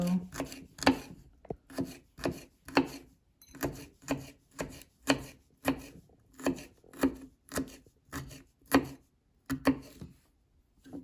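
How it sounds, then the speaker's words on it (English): A knife chops jalapeno into small dice on a cutting board, a steady run of about twenty crisp, close knocks at an even rhythm, with no talking. "So first I'm gonna go ahead and chop up my jalapeno into really small dices."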